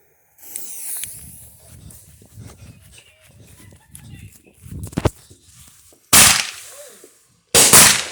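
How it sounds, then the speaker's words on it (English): A Phantom Aerial Avalanche 25-shot 500-gram firework cake goes off outdoors, with faint crackles and pops early on, then two loud sharp blasts near the end. "aerial avalanche, 25 shots. 500-gram banger."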